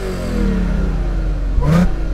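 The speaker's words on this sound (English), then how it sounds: "Pop the door open so you can hear that Miltech exhaust." A 2013 Audi S5 Quattro engine idles with a low burbling aftermarket Milltek exhaust, then briefly revs up with a sharp rising growl before settling.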